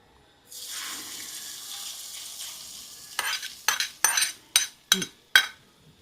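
Asafoetida tempering for a tamarind-jaggery gojju avalakki breakfast hits hot oil in a pan with a sustained close sizzle, then several sharp scraping stir strokes of a spoon clatter against the pan, with no talk.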